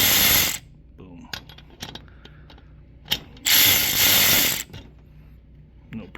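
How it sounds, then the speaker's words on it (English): A DeWalt DCF503 cordless ratchet nut runner whirs loudly in two sustained bursts as it turns bolts, with close metallic clicks and clatter between the runs. "you understand that this is just a nut runner, and this is no impact"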